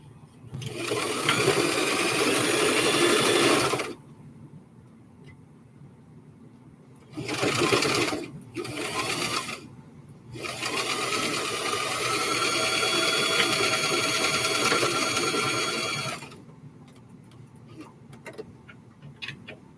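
A sewing machine stitches a fabric hair scrunchie in several close, loud bursts of rapid whirring needle clatter, a long run first, two short runs, then another long run, with quiet pauses between.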